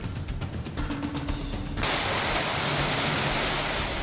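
Heavy, continuous monsoon rain in Madhya Pradesh pours down as a dense, roaring hiss that fills the whole clip. It grows noticeably louder and fuller partway through, with no voices.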